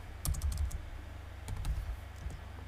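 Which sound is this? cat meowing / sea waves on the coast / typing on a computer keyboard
typing on a computer keyboard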